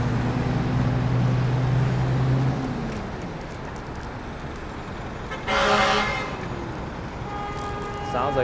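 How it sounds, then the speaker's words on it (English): Fire truck horn honking in Miami traffic, two long loud blasts at the start, then a brief distant toot later, all under steady road and engine noise heard from a scooter. "Sounds like there's a fire truck that needs to get through."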